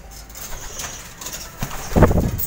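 Pigeons in a loft housing breeding pairs, a soft low coo building near the end, with faint rustling and a brief flutter, close and fairly loud, no talk.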